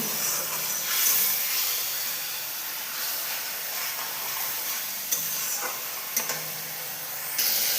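Soybean chunks and potatoes fry in spiced oil in a pan, giving a steady, close hissing sizzle with a few sharper crackles and stirring scrapes, and no voices.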